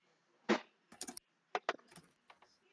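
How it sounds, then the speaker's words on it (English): Computer keyboard clicks from someone typing notes: sparse, close, quiet taps arriving in small irregular bursts, a sharp single key followed by quick clusters of clicks separated by silence. "I apologize if you can hear my keyboard clicks"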